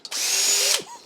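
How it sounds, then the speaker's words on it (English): A power tool fires one short burst while driving a bolt into a Corvette C5 engine during a camshaft upgrade, a sharp, near whine lasting under a second before winding down. "Right, where's the power tool?"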